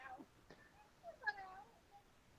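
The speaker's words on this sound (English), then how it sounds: "Meow, meow, meow." A cat meows from upstairs in a house, several soft, faint meows spread over a couple of seconds in an otherwise quiet room.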